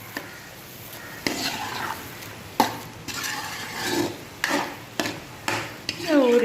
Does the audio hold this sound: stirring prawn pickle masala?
yes